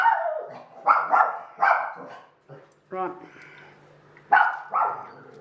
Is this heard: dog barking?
yes